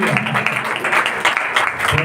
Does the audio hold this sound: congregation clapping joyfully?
yes